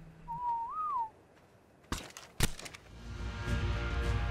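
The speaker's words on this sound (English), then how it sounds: "Let's whistle passive." A player character's whistled 'passive' command in modded ARK, a single rising-and-falling tone alone in a quiet scene, followed by sharp in-game impacts and rising background noise.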